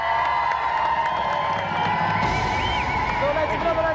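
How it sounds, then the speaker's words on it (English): A game show studio audience cheers and applauds in a loud, dense burst that fills the whole stretch, with whoops rising above the crowd. "let's give another round of applause for our 2 special guests, Roger Black and Dwayne Ladejo"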